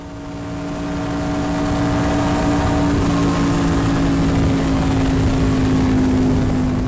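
NASCAR stock car engine at speed, heard from the onboard seat during a ride-along at Las Vegas Motor Speedway: a loud, steady, high-pitched drone held constant throughout, with no talk.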